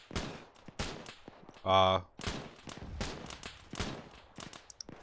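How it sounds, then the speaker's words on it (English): Gunfire in a military video game: sharp, loud shots in a scattered, irregular rhythm, mixed with a brief tonal burst and voices talking across the clip. "Seems like they're shooting at it"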